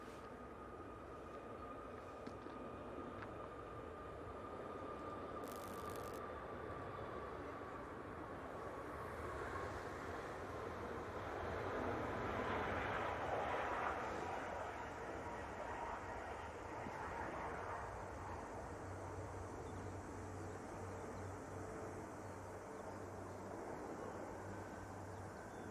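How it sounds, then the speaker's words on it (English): A Ryanair airliner rolls for takeoff at Manchester Airport, its distant engine roar slowly swelling and fading as a broad, faint rumble over steady outdoor background noise. "Ryanair on the roll."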